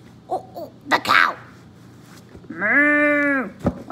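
A human voice imitates a goat's bleat with one sustained, wavering, nasal call that runs close and clear near the end. Short vocal sounds and a sharp breath come before it over a low background hum.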